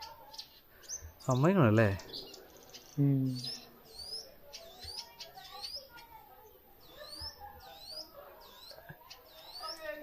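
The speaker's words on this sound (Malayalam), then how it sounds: "ആഫ്രിക്കൻ വനാന്തരങ്ങളിൽ മാത്രം കണ്ടുവരുന്ന സുറാട്ടിപ്പ എന്ന് പറഞ്ഞ പക്ഷിയുടെ സൗണ്ടാണ് ഇപ്പൊ നമ്മൾ കേട്ടോണ്ടിരിക്കുന്നത്." Short, high bird chirps repeat steadily and fairly faintly throughout, while a person speaks briefly near the start.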